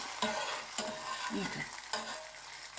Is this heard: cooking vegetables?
yes